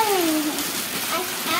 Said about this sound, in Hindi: देख लो कितनी बारिश हो रही है।